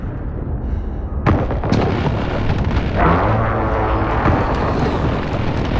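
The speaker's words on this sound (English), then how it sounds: "Friendly precision airstrike inbound." Precision airstrike explosions in the video game Call of Duty: Modern Warfare, a loud, continuous rumbling barrage with sharp blasts layered over sustained low roar, alone without talk.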